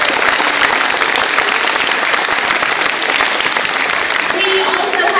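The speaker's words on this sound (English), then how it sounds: "If we could just start with a round of applause for her." Sustained audience applause for an elementary school music teacher at a third grade musical, dense and steady clapping filling the room throughout with a faint voice near the end.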